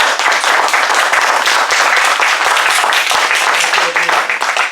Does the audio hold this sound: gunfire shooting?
no